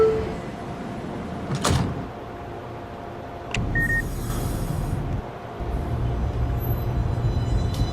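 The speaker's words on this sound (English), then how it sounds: "Stand clear of the closing doors, please." Doors of an R262 subway train close in the MTA Automated game: a couple of sharp knocks and a brief chime, followed by a low, steady rumble.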